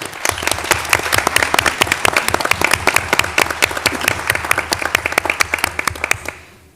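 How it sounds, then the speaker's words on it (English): Applause for the class of 2022 at a high school board meeting, distinct claps from a modest group in a room, fairly close and steady, fading out at the end. "Give them a round of applause."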